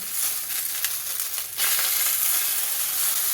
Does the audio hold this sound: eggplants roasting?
yes